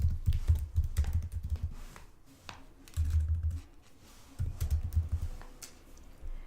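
Fingers type on a computer keyboard in bursts of quick, close clicking, separated by short pauses with no voices.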